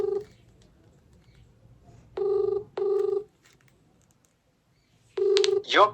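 Outgoing phone-call ringback tones over a quiet line: three short, clear electronic rings in an irregular pattern, the last followed by a brief warbling chirp.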